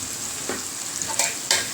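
Potatoes frying in a pan with asafoetida added, a steady close sizzle broken by a few quick scraping stirs, no talk.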